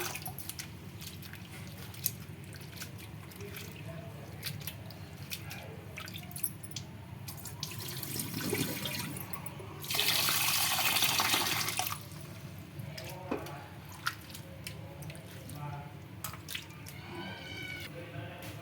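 Flattened rice (poha) being washed in water in a kitchen, with soft sloshing and dripping, then a louder gush of pouring water for a couple of seconds before quieter splashes return.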